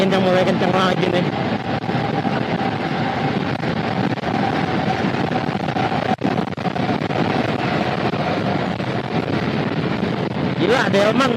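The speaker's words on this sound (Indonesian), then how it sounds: "Tuh, angin yang mulai kencang lagi nih." Strong wind roaring over a microphone on a solo motorcycle ride along the Pantura road in Indonesia, a constant heavy rumbling buffet with engine and road noise beneath, steady and close throughout.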